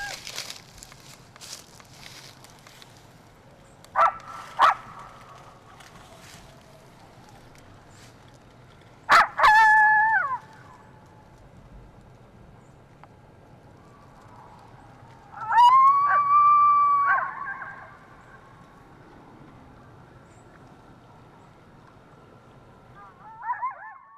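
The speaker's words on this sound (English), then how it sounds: "played a recording of coyotes howling in hopes we would get a response." A recorded coyote howl is played back outdoors at the edge of an urban nature preserve in Georgia. It comes as a few brief rising and falling wails spread across the quiet, with one longer, louder howl partway through. Faint ambient noise fills the gaps.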